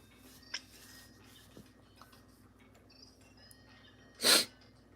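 A single brief, close sneeze bursts out near the end over a quiet room hum with faint scattered ticks.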